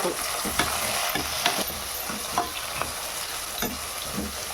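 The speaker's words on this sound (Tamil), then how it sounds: "வெங்காயம் பச்சை மிளகாய் ரெண்டு போட்டு கொஞ்சம் செவக்க வரைக்கும் நம்ம அப்படியே வதக்கி விட்டுட்டே" Onions and green chillies sauté in a pan with a steady close sizzle, broken by regular scraping stirs of a spoon against the pan, with no talking.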